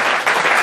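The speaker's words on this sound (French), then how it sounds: "on peut l'applaudir" Audience applause at the Cozy Club, a brief burst of dense, steady clapping from a crowd, loud and close.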